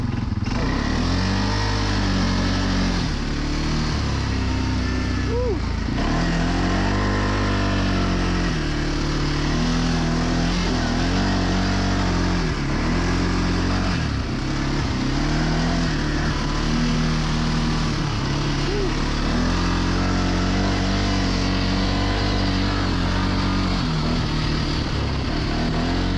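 A CF Moto Cforce 600 ATV engine drones steadily and loudly in two-wheel drive through deep snow, its throttle swelling and dipping with no talking.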